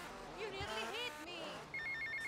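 A phone rings in GTA Vice City, a short repeating electronic trill that comes in near the end, close and clear, following a stretch of in-game speech.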